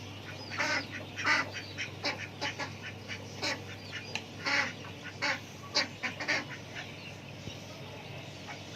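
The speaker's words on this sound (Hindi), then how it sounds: "हमारे डक्स" Farmyard ducks quacking in a village, a run of repeated nasal honks in irregular bursts, moderately near, with a low steady hum underneath.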